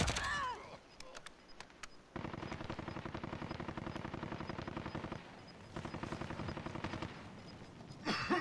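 Rapid gunfire in Call of Duty: Modern Warfare, a sniper's shots mixed with sustained bursts of automatic fire in two long stretches, loud and close, with brief quieter gaps between them.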